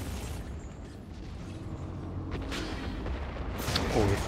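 Finger-shooting gunfire from the video game Anabiosis: Dream of Reason, heard as two sharp bursts a little over a second apart over a low, steady game rumble.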